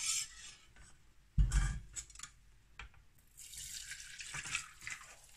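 Fresh liquid blood poured through a strainer while making a blood-curd dish: intermittent splashing and trickling with a sudden heavy pour and faint metallic clinks, close and with no speech.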